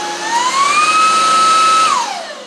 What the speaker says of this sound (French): Donc on va aspirer un petit peu et on va voir dans le réservoir ce que ça donne.